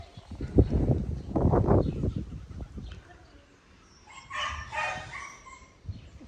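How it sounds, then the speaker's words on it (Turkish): A dog barks outdoors, a few loud, rough barks spaced over several seconds, with some birdsong chirping faintly in between. "Köpek niye bağırıyor?"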